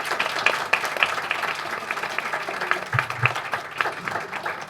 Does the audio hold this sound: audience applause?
yes